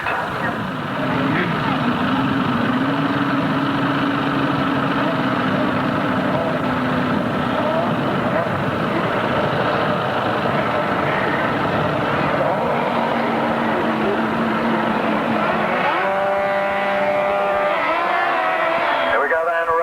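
Sidecar outfits on a 1993 grasstrack circuit roar away from the start together, a loud dense engine din that swells and holds, with revs rising and changing pitch near the end.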